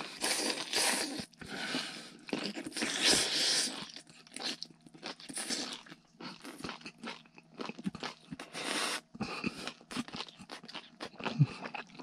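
Grilled squid legs eaten inside a truck cab produce close, crisp crunching and chewing in irregular bursts separated by brief quiet gaps.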